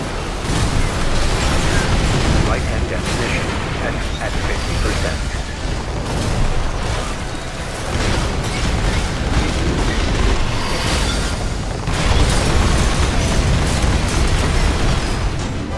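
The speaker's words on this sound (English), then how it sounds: "It's a fucking fireworks show." Missile explosions in the mech combat game Armored Core 6, a dense, loud barrage of overlapping booms and bursts rolling continuously with brief dips, like a fireworks show.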